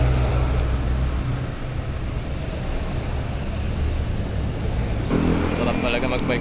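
Busy Saturday road traffic passes a cyclist on a solo ride from Quezon City toward Nuvali and Tagaytay, a continuous low rumble of many vehicles mixed with wind noise, shifting slightly near the end.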